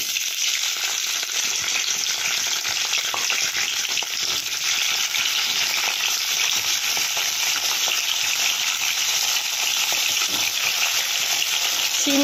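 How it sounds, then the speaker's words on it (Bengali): Flat white beans fry in hot oil with a loud, continuous, dense crackling sizzle that holds steady for the whole stretch, no voices. "তেল গরম হয়ে গেছে, এবার আমি শিমটা ভেজে নিই।"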